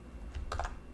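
Ctrl S save shortcut pressed on a computer keyboard while working in Adobe Photoshop, a couple of quick close key clicks in a short burst, with no talking.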